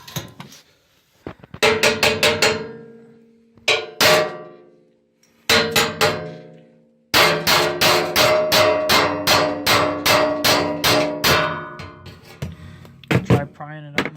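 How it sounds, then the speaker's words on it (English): A hammer whacks the top of a crowbar while prying apart a diesel short bus, giving loud, close metallic clangs, first in scattered single and double strikes, then a rapid steady run of repeated blows. "put the crowbar down and whack the top of the crowbar"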